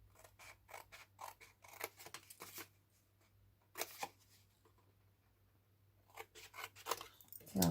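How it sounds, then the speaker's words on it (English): Close scissors snipping away three small corner sections of a paper or card tealight holder, in short bursts of crisp clicks separated by quiet pauses. "just cut the 3 small sections"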